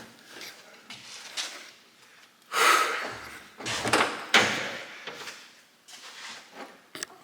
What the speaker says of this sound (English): I gotta see this thing with the door closed.